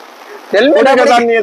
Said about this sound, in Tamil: சும்மா மழை கொட்டுது.